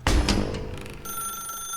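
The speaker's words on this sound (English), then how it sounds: "I don't want to answer the phone." A telephone rings in The Stanley Parable, one loud sharp ring after an impact, with a bright electronic tone that lingers.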